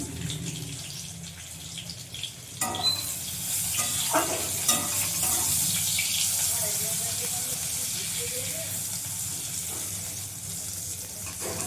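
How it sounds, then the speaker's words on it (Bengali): Eggplant fries in hot oil in a pan with a loud, continuous bright sizzle and crackle, broken early by a few stirring knocks and scrapes, holding steady throughout. "বেগুনটা আমি ভেজে নেব।"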